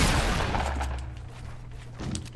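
A gunshot in Fortnite during a building fight, a loud broadband blast at the start that decays over about a second, with a quieter burst near the end.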